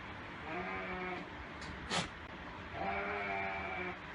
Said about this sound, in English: The weird goat.